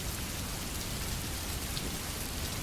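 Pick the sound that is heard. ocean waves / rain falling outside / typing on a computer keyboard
rain falling outside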